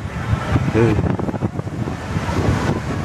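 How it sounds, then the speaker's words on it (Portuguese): Strong wind gusts buffet the microphone at Panamaciri beach, a rough, roaring rumble with the sea in the background, while people talk over it. "Muito vento."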